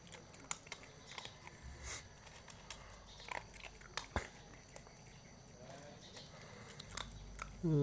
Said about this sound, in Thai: ดูเขากินท่าจะอร่อยดี